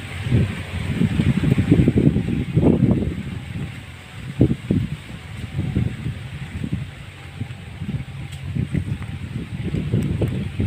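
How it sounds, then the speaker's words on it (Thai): Strong gusty wind shakes and rustles the leaves of a fruit tree bearing small purple fruit, a steady loud outdoor rush with surging bursts, and a voice exclaims over it. "โอ้ลมแรง"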